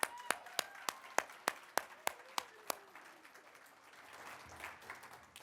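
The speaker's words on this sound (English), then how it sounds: "Give you a round of applause to them." Applause at a scholarship fund awards ceremony: a close, evenly spaced series of sharp single claps for nearly three seconds, then softer, scattered clapping fading into room noise.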